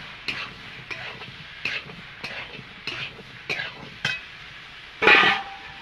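Young jackfruit gets stirred through spices in a frying pan, with a series of regular scraping strokes of a spoon against the pan and a soft sizzle beneath, ending in one louder clatter.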